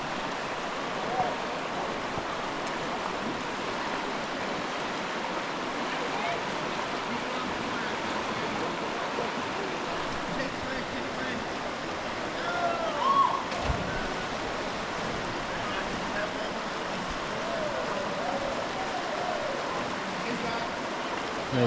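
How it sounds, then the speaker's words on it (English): Fairly tame whitewater river rapids rush steadily, a continuous broadband wash of churning water with no clear breaks. "Whitewater rafting, even though fairly tame"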